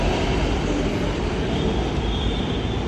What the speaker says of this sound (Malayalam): ഒരു മെട്രോ ട്രെയിൻ യാത്രയും കിട്ടും